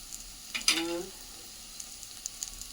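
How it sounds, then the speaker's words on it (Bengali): Chowmein frying in a pan gives a short burst of sizzle and stirring clatter that peaks early, then settles into a quiet background hiss with a few faint ticks. "একটু সময় ফ্রাই হতে দেব, হালকা ফ্রাই হওয়ার জন্য রেখে দেব বন্ধুরা।"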